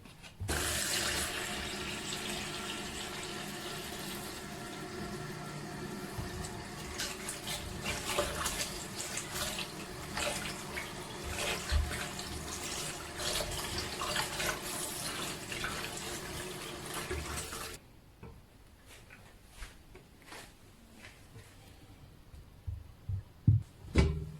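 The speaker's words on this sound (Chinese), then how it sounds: "这是切好的鸡块，我们用清水洗一下，除去血水。" Tap water runs and splashes over cut chicken pieces in a sink or bowl, a loud continuous gush with shifting splatter for about eighteen seconds. Then it stops, leaving quiet handling clatter and a few knocks.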